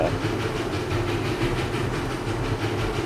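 A Showman steam engine in Farming Simulator 22 runs with a loud, steady rhythmic chuffing and mechanical clatter that pulses evenly throughout, with no talk.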